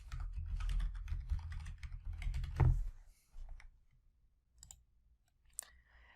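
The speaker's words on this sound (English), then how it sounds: "And then I'll type in the URL I want to go to." A computer keyboard typing a web URL, rapid close clicks in a dense run that thins to a few scattered keystrokes, with no one speaking.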